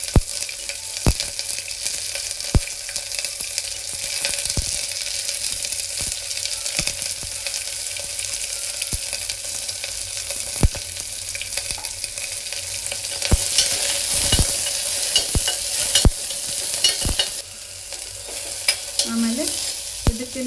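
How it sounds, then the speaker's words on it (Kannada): A large onion fries in a pan for veg dum biryani, giving a steady oil sizzle with occasional stirring clicks and scrapes, close and fairly loud, with no talking. "ಒಂದು ದೊಡ್ಡ ಆನಿಯನ್ ಇದ್ರ ಜೊತೆನೇ ಫ್ರೈ ಮಾಡ್ಕೋಬೇಕು"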